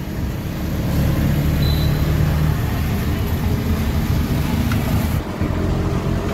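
Riding inside an auto rickshaw, a steady low engine drone and road rumble carry on throughout, loud and close, with a brief dip near the end; faint voices may sit beneath the engine noise.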